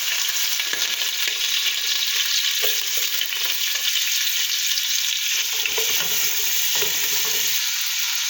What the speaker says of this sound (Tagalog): Ayan, maglalagay na po ako ng mantika, oil ba? Ayan, lalagay ko na po ang bawang.